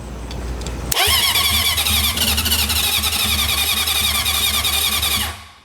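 A junkyard Honda CB750F motorcycle is started with the choke on: after a quiet moment the engine abruptly bursts into a loud, rough, revving clatter, runs unsteadily for about four seconds, then fades out.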